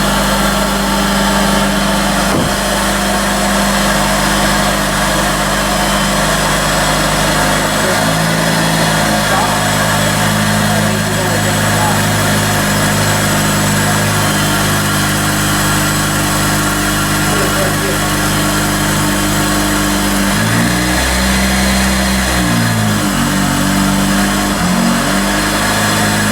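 Supercharged Honda CR-Z engine after a SPEC Stage 1 clutch install, loud and close, idling with rev changes and pitch shifts as it is revved and settles, with talk in the background.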